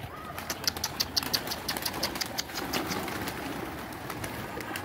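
Carrier pigeon outdoors on a hot day near concrete, soft repeated cooing and light chirps fairly close over faint background hiss, with no talking.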